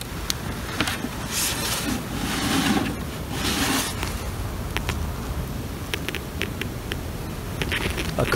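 A swarm of honey bees on a beach, being gently pushed along, makes a continuous buzzing drone mixed with gusty wind rumbling on the microphone, with a few sharp clicks toward the end.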